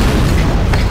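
A ballista fires in the video game Dark Messiah of Might and Magic, a single loud, deep boom with a heavy low rumble lasting about a second, with no talk over it.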